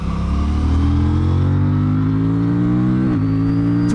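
An Aprilia Tuono 457 motorcycle accelerates hard on a road in Austria, its loud, close engine note climbing steadily before a quick short-shifted gear change drops the pitch near the end.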